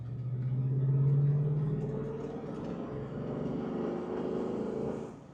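A Mercedes SEL AMG "Red Pig" station wagon accelerates hard, its engine rising in a loud, steady rumble that climbs in pitch and holds strong for several seconds before easing off at the end.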